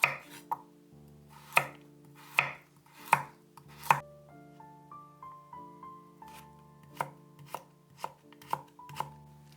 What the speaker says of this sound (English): Two carrots into julienne.